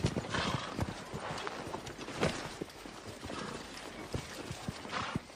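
Horse hooves clip-clop in a steady, busy rhythm close by, with a few snorts mixed into the clatter and no talking over it.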